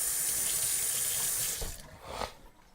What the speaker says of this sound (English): I'm going to wash this spoon off real quick.